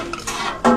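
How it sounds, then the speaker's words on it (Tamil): A grandmother stirs about three kilos of meat curry with shallots in a pot, a metal spoon scraping and clinking against the side before one loud, close clank at the end. "பாட்டி பாருங்க கறி கிளறிட்டு இருக்காங்க"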